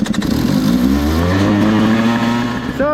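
A 2022 Beta 200RR Race Edition dirt bike, ridden on a snowy day, revs its engine. Close and loud, the engine note climbs and falls in pitch over a few seconds before a sharp squeal at the end.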